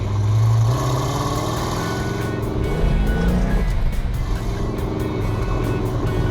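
A 1969 Dodge Super Bee with a 440 six-pack and four-speed runs loudly and close by, its deep rumbling engine steady throughout with a rising rev partway through and no talk.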